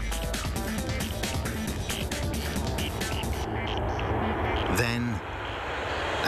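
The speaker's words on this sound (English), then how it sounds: "The plane makes a steep turn, lines up with the runway," An Airbus airliner on final descent to the runway gives a steady, droning engine roar that stays fairly loud throughout, while a narrator talks over it.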